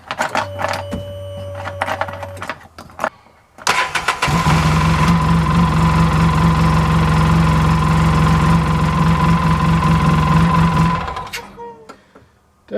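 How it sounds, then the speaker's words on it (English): A Polaris RZR 800 engine cranks and fires, then runs loud and steady with a mechanical clutch rattle for several seconds before shutting off, with a few clicks and handling noises around it. "So I'm going to start this up, see if it still rattles."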